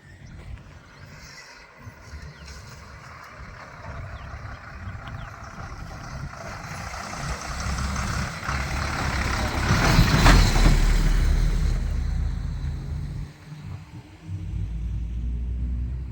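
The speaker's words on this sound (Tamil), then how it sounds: "இப்போ இந்த லாரி கடந்து போனதை பார்த்துருப்பீங்க" A lorry drives over a sunken, caved-in tar road in Samuthiram village, its deep engine rumble building to a loud close pass near the middle before easing off, with no voices.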